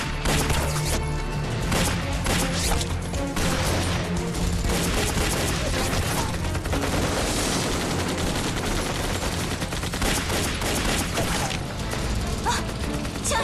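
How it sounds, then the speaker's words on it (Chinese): Dense, sustained gunfire rattles through a battle in a Chinese anti-Japanese war drama, with rapid overlapping shots, bursts and crashes continuing loud and unbroken throughout. "枪声好像是从前面传来的"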